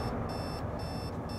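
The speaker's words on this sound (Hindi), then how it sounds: "आई थिंक अलार्म बज गया।" Alarm clock ringing in rhythmic pulsing beeps, repeating about every half second over a dense, loud background of noise.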